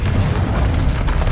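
A Confringo blasting spell explodes in Hogwarts Legacy, a loud, dense boom that rumbles steadily for a moment with no pause.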